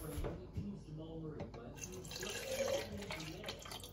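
Kitchen tap running water for a smoothie, a faint splashing trickle into a container with a few drips, while people talk quietly nearby.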